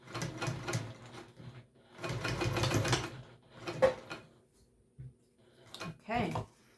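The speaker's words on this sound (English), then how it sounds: "I feel like my machine is super loud today" A loud home sewing machine, freshly oiled, top-stitching fabric for a Summit Pack backpack, runs in several short bursts of rapid mechanical whirring, the longest about a second, followed by a few sharper clicks and handling noises near the end.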